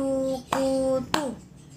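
Two sharp hand claps, about half a second apart, cut between sung or spoken syllables of a religious recitation lesson, with voices continuing around the claps.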